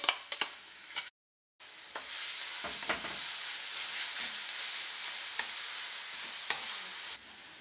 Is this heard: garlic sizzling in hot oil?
yes